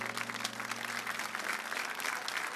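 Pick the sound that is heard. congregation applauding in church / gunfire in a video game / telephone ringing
congregation applauding in church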